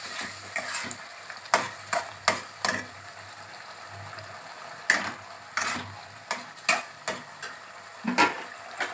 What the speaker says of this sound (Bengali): সেটা আমি দিয়ে এবার ভালো করে মাংসটা কষবো।